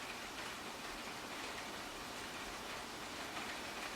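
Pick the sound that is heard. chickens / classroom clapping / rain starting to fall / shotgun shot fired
rain starting to fall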